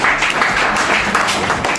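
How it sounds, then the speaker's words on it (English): A crowd at a Ghanaian diaspora networking gathering in London claps for itself, a dense and steady burst of applause that stays close and loud throughout. "I think you need to clap for yourself."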